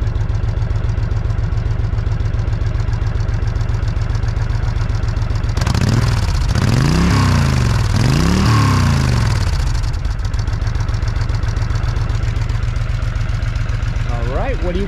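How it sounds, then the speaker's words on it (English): A 2007 Honda VTX1300C motorcycle idling with a steady low thump, then revved hard in three rising and falling pulls midway before settling back to idle, close and loud. "Let me rev her up so you guys can hear how she sounds."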